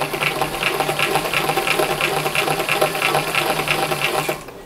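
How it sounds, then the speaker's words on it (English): A sewing machine runs steadily through thick fabric for a Chanel jacket, a loud rhythmic mechanical whir with even repeating stitch pulses that stops abruptly at the end. "And I am sewing straight down the weave on this side of my mark now."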